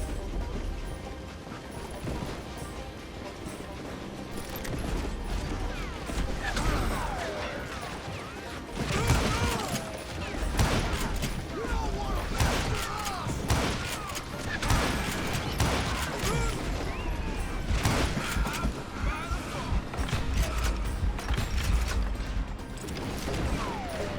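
Gunfire and dynamite blasts in the Western shooter game Call of Juarez: Gunslinger during a train-hopping level, a dense run of sharp shots, clanks and crashing bursts over a continuous rumbling mechanical backdrop.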